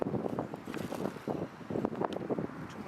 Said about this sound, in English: A little windy out today. Things are trying to blow away on me.